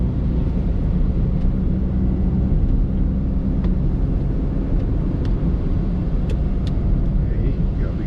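A steady low engine rumble from inside a moving 2016 Perodua Axia, droning continuously with road noise and no clear gear shifts standing out.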